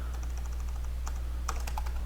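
Rapid keystrokes on a computer keyboard while typing text into the Sublime text editor, a quiet scattered clicking that bunches into a quick burst near the end over a low steady hum.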